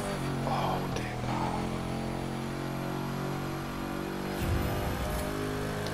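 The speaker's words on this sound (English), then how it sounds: "I'm hitting the nitrous, it's five exhausts" Revving engine of a wide-body car with five exhausts on nitrous in The Crew 2 video game, a steady loud drone with a brief surge near the end, a voice faintly present.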